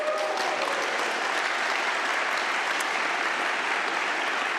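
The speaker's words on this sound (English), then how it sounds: "A huge round of applause to Johannes" A lightning talks audience gives a huge round of applause for a co-host, a dense, even wash of many hands clapping continuously and fairly loud throughout, with no voices over it.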